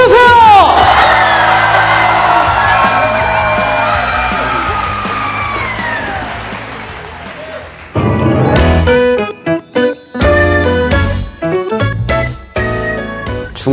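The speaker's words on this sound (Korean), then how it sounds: "자, 여러분 박수 주세요." A lecture audience cheers with loud whoops and rising shouts for the opening of a talk by a football commentator, fading gradually before music cuts in over the second half.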